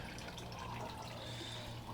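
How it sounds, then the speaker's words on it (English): A small garden hose spouts a steady trickle of water into a backyard fish pond whose waterfall no longer works, giving a continuous, gentle splashing close by with no voices. "hose spouting water there."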